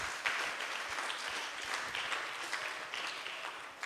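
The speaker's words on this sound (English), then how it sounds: "Give him a round of applause," Audience applause at a West Indies kiddy cricket camp for a cricket association director, a steady crowd clapping throughout, moderately loud and unbroken, with no speech over it.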